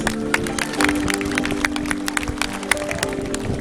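A dolphin show audience claps steadily, a dense patter of hand claps with a few sharper cracks, moderately loud throughout.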